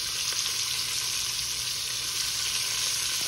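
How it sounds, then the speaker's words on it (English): Onions and celery hit a hot pan alongside seared pork leg, giving a bright, steady, close sizzle that stays even and loud throughout with no voices. "Now we're going to put our onions and celery in here,"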